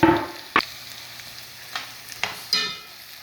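Cashews, garlic, rough-cut ginger and green chilies fry in a pan for palak paneer, giving a soft steady sizzle broken by a few sharp scraping stirs.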